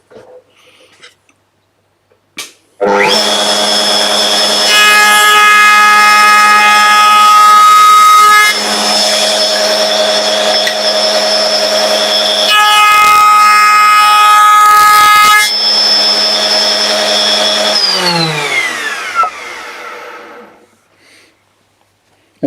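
A router rounds over the top edge of a small wooden box made on a mini dovetail jig, a loud sustained high whine starting abruptly, running steadily for about fifteen seconds, then winding down.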